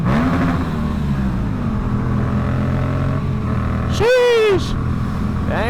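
A small car accelerates past on a road, its engine note rising as it goes by, heard over the steady rumble and wind of the recording vehicle, with a person exclaiming nearby.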